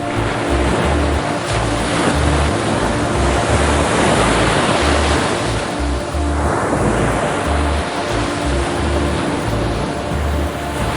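Ocean waves surging and breaking steadily, a loud continuous wash of surf with wind noise and a low rumbling undertone throughout, no voices.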